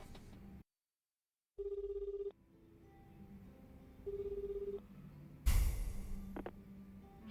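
An electronic telephone ring in the video game Like a Dragon: Infinite Wealth sounds in two short buzzing bursts separated by quiet, followed by a sharp louder click-like thump near the end.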